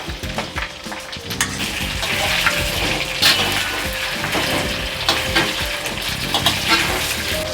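Boiled potatoes go into hot oil in a pan for Bengali aloo dum, with a loud, dense sizzle and crackle of frying plus some stirring, steady and close throughout.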